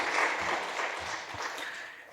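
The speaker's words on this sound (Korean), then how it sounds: "하나님 앞에 영광의 박수 한번 하시죠" Church congregation clapping together during a Sunday worship service, a steady wash of applause filling the sanctuary for the full stretch with no voices.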